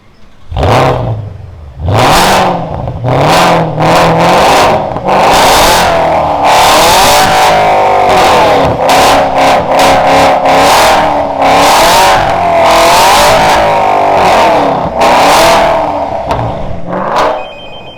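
A Porsche Panamera 4S 3.6 with a remote-controlled Varex exhaust revs loudly and repeatedly in sharp bursts, rising and falling in pitch, close by and continuous, with no talking.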